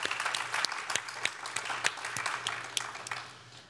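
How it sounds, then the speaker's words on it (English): Audience applause at a student sustainability awards ceremony honoring the judges, a steady wash of many hands clapping with a few sharper individual claps, fading slightly toward the end. "let's have a round of applause for their work and dedication in selecting this year's Sustainability Awards."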